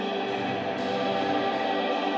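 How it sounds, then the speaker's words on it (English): Plate reverb send added to a wide ambient instrument bus, a sustained, smeared wash of tone with long diffuse tails, steady and fairly loud throughout with no voice. "I actually want to send this to a plate reverb send"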